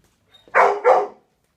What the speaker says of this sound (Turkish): Havlayıp durma.